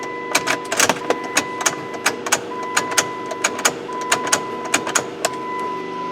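Plymouth Prowler with its fuel pump replaced, running after the key is cycled: a steady electric hum with a faint whine, overlaid by a regular series of sharp clicks or ticks, close and moderately loud, no talking.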